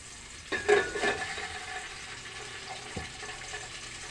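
Cooking oil goes into a pan with a short splashy rush lasting about half a second, followed by quieter hiss and a single dull knock near the end.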